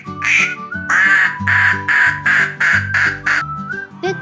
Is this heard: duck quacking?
yes